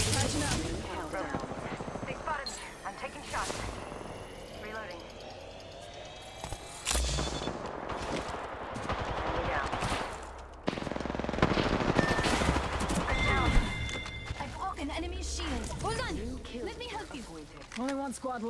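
Rapid automatic gunfire in an Apex Legends ranked match, with repeated bursts and single shots at close range, aircraft-like engine drone and loud impacts, while a player talks over the action.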